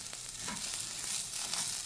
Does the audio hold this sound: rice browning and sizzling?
yes